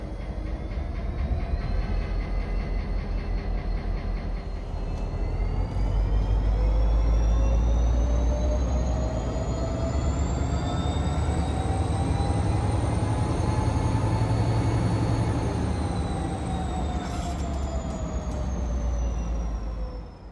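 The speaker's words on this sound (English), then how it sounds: "Work Extra 1030 revs up to notch 8 as they depart the runaround." An MBTA EMD F40 diesel locomotive on a Boston stone train revs up to notch 8 and departs, a loud sustained roar with a slowly rising engine pitch that holds steady for about twenty seconds, no talk.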